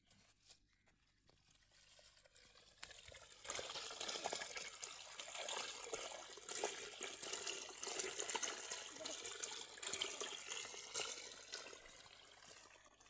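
Irrigation water runs through a farm field channel, a steady broadband rush and gurgle that starts soft, swells after a few seconds and holds loud and continuous, with no voices.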